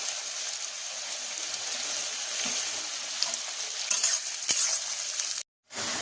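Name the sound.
carrots and beans frying and being stirred in a pan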